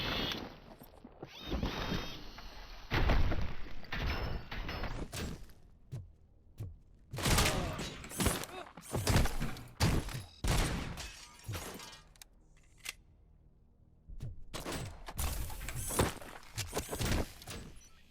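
Shotgun blasts and explosions in the video game Robocop: Rogue City come in a dense, irregular barrage of loud bursts with crashing, shattering debris, followed by a brief lull and then a fresh cluster of hits.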